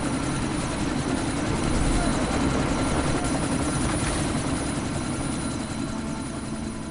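A helicopter in the video game Deus Ex: Mankind Divided, a loud, constant rotor and engine drone that holds steady throughout with no break.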